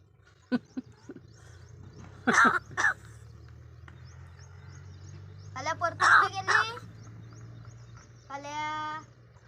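A talking crow gives raspy, cough-like bursts in short groups, close and loud, then a drawn-out harmonic call near the end, with quiet gaps and low background rumble between.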